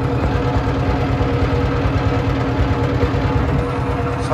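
A trawler boat's engine running on the Meghna river: a steady, loud, low throbbing drone that stays constant throughout, with no voices over it.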